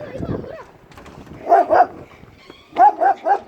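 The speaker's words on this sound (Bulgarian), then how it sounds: "Хора, тук има едно злобно куче." An aggressive dog barks sharply in two bursts, a pair of close, loud barks and then three more in quick succession, with murmured human voices and a whimper-like sound early on.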